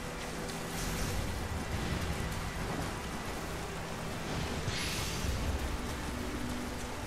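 Thunder in the video game Nioh, a faint low rumble rolling under steady hissing rain, continuous and distant with no voices.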